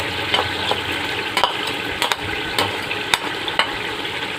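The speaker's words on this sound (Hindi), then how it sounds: "चिकन थोड़ा फ्राई हो गया है।" Chicken sizzles and crackles steadily in hot oil in a karahi, with occasional clinks and scrapes of stirring, close and continuous.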